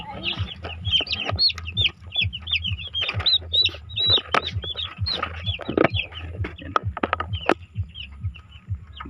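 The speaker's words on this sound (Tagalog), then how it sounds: "may mga sisiw pa dyan" Young broiler chicks peep in a steady stream of high, quick chirps, many overlapping and close by, with occasional soft thumps and rustling underneath.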